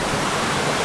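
A hidden waterfall on the Little River in South Mountains State Park roars as a dense, constant rushing wash, close and loud, with no voices.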